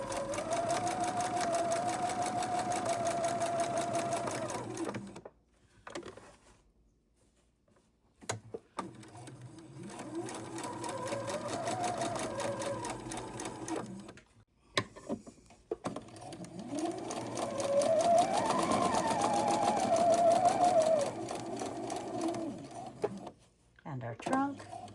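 A sewing machine lock stitches the trunk of a Christmas tree napkin, running in steady motor bursts with short pauses between passes.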